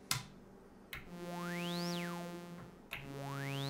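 A Behringer Crave synthesizer with its high pass filter engaged plays sustained tones whose resonant filter sweeps sharply up and back down, two notes in a row, each starting with a click. No voice is heard.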